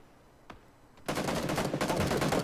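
Sustained, rapid automatic gunfire from a video game bursts in abruptly after a second of quiet. It stays loud and dense to the end, with only a faint crack before it.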